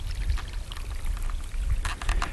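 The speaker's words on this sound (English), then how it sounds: "the water's all coming through this culvert right here" Water pours steadily through a roadside culvert at a beaver pond, a continuous close rushing with low turbulent rumble and brighter splashing bursts toward the end.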